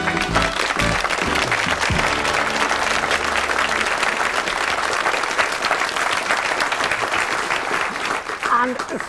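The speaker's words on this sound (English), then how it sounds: "thank you very much for that applause" Sustained, dense applause from a studio audience at an afternoon television show, loud and steady throughout, with a few voices and a brief musical sting audible early on.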